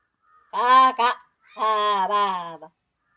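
A voice imitates a crow, giving a few drawn-out cawing calls in two bursts with a short pause between.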